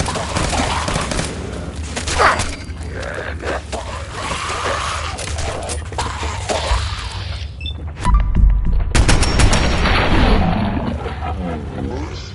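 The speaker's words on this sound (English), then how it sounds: "Returning fire." Gunfire in a Fallout 4 combat fight: a dense, roaring barrage of shots and blasts runs almost nonstop, swelling louder toward the end.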